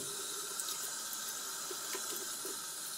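Cold tap water runs steadily from a faucet as new nylon tights are rinsed under it, a continuous close splashing hiss over a few seconds with no talking.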